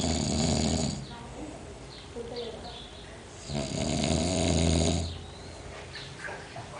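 A man snores loudly and close by in long, rough rhythmic breaths, two big rattling snores with quieter breathing and murmured voices between them.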